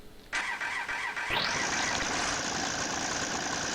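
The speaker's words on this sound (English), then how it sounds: "you'll hear it's got an engine sound" A 1996 Amtran Ford B800 bus engine in the Rigs of Rods driving simulator: a steady tone plays, then the engine cranks and catches at once. It settles into a loud, even, continuous run with no talk.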